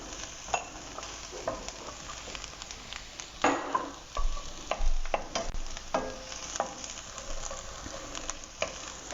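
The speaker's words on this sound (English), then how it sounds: "So we're just going to saute the garlic." Garlic sautéing in a pan for a coconut-milk chickpea curry, a soft continuous sizzle broken by scattered clicks and scraping stirs, fairly quiet and close with no talk.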